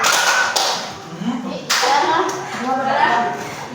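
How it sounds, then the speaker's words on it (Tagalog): A classroom of students claps for a classmate after a song: a fairly loud, close burst of clapping mixed with talking and voices throughout. "bigyan ng isang palakpak si pikit-pikit"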